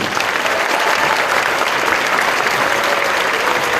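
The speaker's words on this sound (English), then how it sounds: "Let's give them another round of applause, please." Steady, full applause from a crowd at a Norwegian cultural gathering honoring past royalty, even and continuous throughout without pauses.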